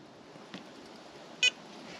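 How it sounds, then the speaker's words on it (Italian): A Radiolink RC transmitter for the A560 v2 3D aerobatic plane gives one short, clear electronic beep after its settings are saved, with a faint blip just before it over quiet background hiss. "La radio emette dei beep, 3 in questo caso, e ha memorizzato la modifica."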